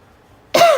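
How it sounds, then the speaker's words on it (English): A single sharp, loud cough bursts out abruptly after a near-silent pause, with a brief throat-clearing quality. "sorry for me coughing"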